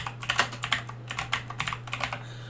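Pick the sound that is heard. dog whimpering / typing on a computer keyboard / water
typing on a computer keyboard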